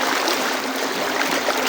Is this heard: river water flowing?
yes